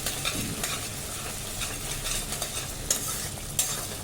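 Ginger garlic paste fries in a pan with a steady close sizzle, broken by scraping stirs and a couple of sharp utensil clicks against the metal.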